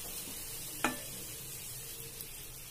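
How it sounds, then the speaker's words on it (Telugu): Poori dropped into boiling sugar syrup flavoured with cardamom, a single sharp splash-like hit followed by a soft bubbling simmer, close and fairly quiet, with no talk. "ఇలా మరుగుతున్న పాకంలో పూరి వేసుకోవాలి."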